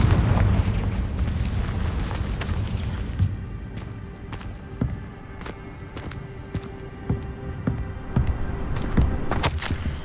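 Confringo blasting-curse explosions in Hogwarts Legacy, a loud rumbling blast at the start followed by a series of sharp cracks and booms at irregular intervals.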